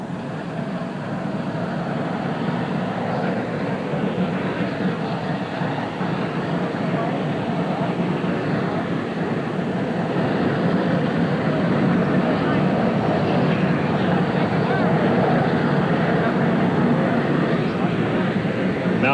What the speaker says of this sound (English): Now the Army helicopter preparing to take off. The rotors beginning.